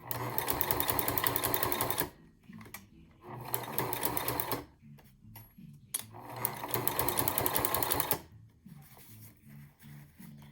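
A domestic sewing machine stitches a small leather mini duffle bag in three rapid, loud bursts of mechanical clatter, separated by short pauses for backstitching and turning the work, heard close up.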